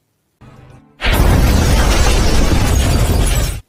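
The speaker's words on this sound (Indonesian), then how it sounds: "mobil yang akan dikendarai Jason pun meledak" A car explodes in a film scene, a faint lead-in giving way to a sudden loud, sustained roaring blast with crackling debris that fills the rest of the clip.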